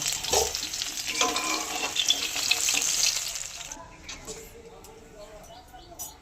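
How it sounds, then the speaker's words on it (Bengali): Radish pieces fry to a deep red in hot oil in a pan, giving a loud, steady broadband sizzle with occasional stirring scrapes that drops to a quieter crackle about halfway through. "মূলোগুলো একদম লাল লাল করে ভেজে নিয়েছি, এবারে তুলে নেব।"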